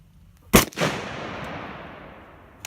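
A single loud 6.5 Creedmoor AR10 rifle shot at an outdoor target range, a sharp crack followed by a rolling echo that fades over about two seconds, with a faint distant pop near the end.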